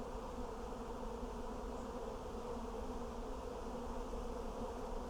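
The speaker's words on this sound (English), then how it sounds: "my bees are swarming" A honey bee swarm on a hot summer day, a dense steady buzzing hum from many bees filling the air, continuous and close with no voices.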